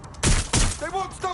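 Gunfire in the video game Watch Dogs Legion: two sharp, loud bursts of shots close together, followed by shouted voices.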